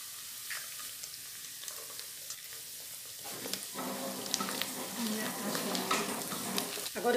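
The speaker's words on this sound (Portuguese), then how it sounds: "Agora eu vou pôr 2 ovos para fritar." Two eggs go into a pan of hot oil after meat has been fried, a quiet background turning into a sharper, louder crackling sizzle midway, with scattered pops and clatter near the end.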